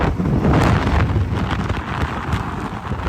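Steady heavy rain pours down on a rainy evening during an outing, a dense continuous hiss with low rumbling and wind buffeting the microphone, close and loud throughout with no voices.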